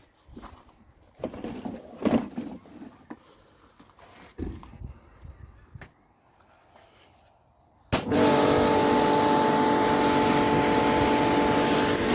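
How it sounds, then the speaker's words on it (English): A garden sprayer blasts cleaner onto filthy patio slabs, a loud continuous hiss that starts abruptly after several seconds of scattered handling knocks and quiet movement. "That sprayer's no good."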